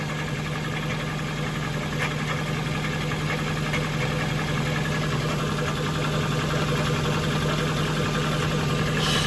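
A car engine runs steadily, heard from underneath the vehicle, with a continuous low mechanical hum and drone blamed on a transmission fault.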